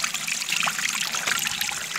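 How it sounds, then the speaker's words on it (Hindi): Water trickling and flowing about 40 feet below ground, a steady continuous stream that fills the whole stretch without a break. "ये दिखाई दे रहा है पानी बह रहा है"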